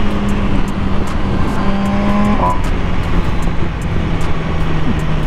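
A 2020 MV Agusta Brutale 1000RR motorcycle cruises along, its engine a steady, continuous drone with a low hum and faint whining tones under loud wind rush, no talk over it.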